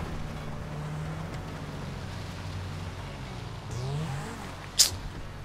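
Cars drive past in GTA V game traffic as a low steady engine hum under wind-like noise, with a brief sharp burst near the end.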